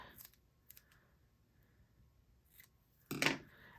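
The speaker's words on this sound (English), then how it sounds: "I'm going to cut a flag end." Scissors cutting a flag end on a strip of paper for a Happy Planner, a few quiet snips and rustles, then one louder crisp cut near the end.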